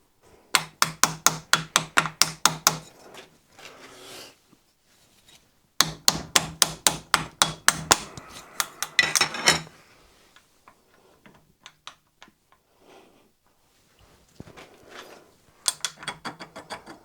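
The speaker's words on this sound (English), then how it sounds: "I'm going to bolt the aluminium down onto this" Ratchet wrench bolting aluminium down onto a vintage tractor PTO part, sharp rapid clicking bursts in close repeated runs separated by pauses and faint clanks, no talking.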